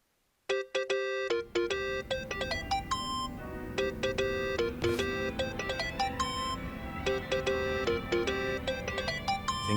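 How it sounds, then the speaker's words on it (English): Mobile phone ringtone from the video game Yakuza: Like a Dragon, a bright, repeating electronic melody of chiming tones that plays loudly and continuously after a brief silent start. "Think that's your phone, man."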